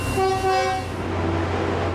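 A Tri-Rail commuter train sounds a loud, steady horn blast for under a second, then a continuous low rumble carries on close by with no voices.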